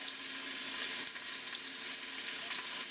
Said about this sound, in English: while them are crisping up